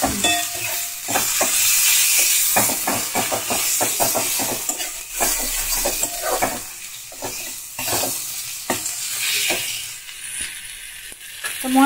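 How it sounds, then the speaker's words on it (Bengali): Masala of onion, ginger-garlic paste, tomato, salt, turmeric and Kashmiri red chilli powder sizzling in a pan, with a spatula scraping and stirring in uneven bursts over the constant hiss of frying. "আর তার মধ্যে দেখো আদা রসুন বাটা, টমেটো, নুন, হলুদ গুঁড়ো আর কাশ্মীরি রেড চিলি পাউডার দিয়ে সুন্দর করে একটু আমি কষিয়ে নেব মশলা।"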